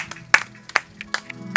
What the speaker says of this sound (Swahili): Naomba mpigie Yesu makofi kwa sababu ya ibada hii.